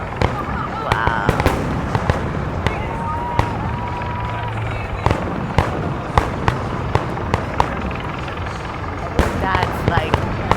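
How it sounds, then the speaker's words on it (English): Fourth of July fireworks over Washington DC: sharp bangs and crackling bursts pop at irregular intervals over a steady crowd murmur, with a whistling rocket rising midway and a dense flurry of crackles near the end. "the pinnacle of fireworks"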